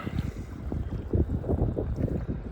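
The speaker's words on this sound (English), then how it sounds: "it's just so hard to try to keep yourself in place when you're fighting the wind like that" Wind gusting over Lake Lavon in Texas buffets a small fishing boat, with steady low rumbling microphone wind noise and faint water movement throughout, no talking.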